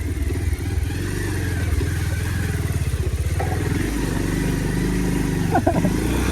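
A motorcycle ridden off-road on a rough nature trail, its engine close and loud with a throbbing mid-pitched drone, uneven revving and some clattering over bumps.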